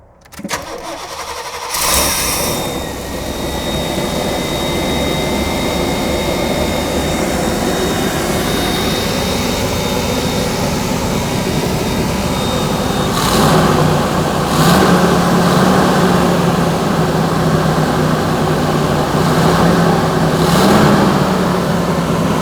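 An old vehicle engine cranks briefly and catches, then settles into a loud, steady idle with a constant drone and a few revving swells later on, heard close up with no talking.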